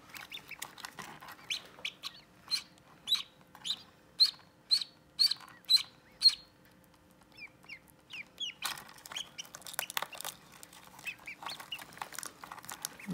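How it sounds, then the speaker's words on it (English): Ducks quack in a classroom setting, a run of evenly spaced loud calls followed by quieter chirps and a burst of busier fowl calls, heard over a faint steady hum with no talking. "here comes the third duck"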